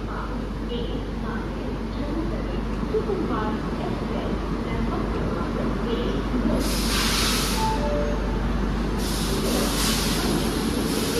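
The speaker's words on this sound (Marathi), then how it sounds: "आपली गाडी 5:28 या ठिकाणी मलकापूर रेल्वे स्टेशनला आलेली आहे" The Jat Humsafar train, number 12751, sits at Malkapur railway station with a steady low rumble, broken by two loud hissing bursts of air, while voices murmur in the background.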